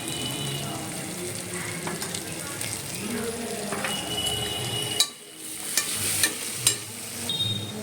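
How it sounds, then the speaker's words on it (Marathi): A masala mixture of red Agri masala, coriander powder, garam masala and salt sizzles and crackles in hot oil while being stirred, with a few sharp clinks of a utensil on the pan, close and steady. "हे मिश्रण आता तेलात थोडं फ्राय करणार आहोत."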